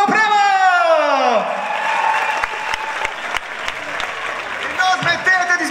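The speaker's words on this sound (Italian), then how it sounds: "Un grandissimo applauso al Supremo!" Loud, dense applause from a live audience at a comics convention show in Etna, with a host's voice speaking over the start and a few whoops near the end.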